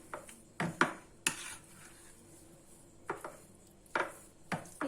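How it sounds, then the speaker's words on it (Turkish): Homemade labneh cheese stirred in a bowl with a spoon, giving several soft scraping and clinking strokes against the bowl at irregular intervals, close by with no talk. "iyice karıştırdım."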